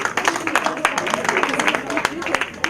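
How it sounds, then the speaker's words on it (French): Orphaned children clap together at a thanksgiving day gathering in Gabon, a dense run of sharp, uneven claps throughout, with voices mixed in beneath. "Voilà, on applaudit."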